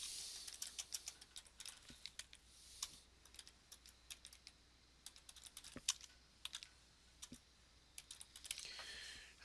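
Quiet typing on a computer keyboard, irregular bursts of light key clicks and taps at close range, alone without talk.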